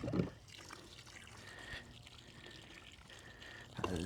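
Termite treatment liquid poured slowly onto a barn foundation, a faint, steady trickle and dribble heard close by, with brief louder rustles at the start and end and no talking.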